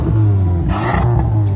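A close Audi TT engine rumbling at idle through its exhaust, then swelling in a short rev before settling back to a steady low drone.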